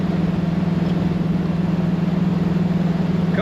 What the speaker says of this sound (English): If you're getting any wind noise, that's just the nature of driving around in a convertible with the top down and having fun.